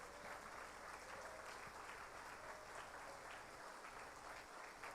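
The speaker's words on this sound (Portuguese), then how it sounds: "Você pode dar uma linda salva de palmas para Jesus?" A church congregation applauds during a pastor's sermon, a continuous, dense roar of many hands clapping, steady and distant-sounding, lasting several seconds without a break.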